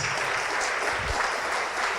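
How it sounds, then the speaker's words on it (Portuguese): Church congregation clapping together during an evangelical service, a steady, fairly loud wash of applause filling the whole moment without speech. "Vamos aplaudir mais."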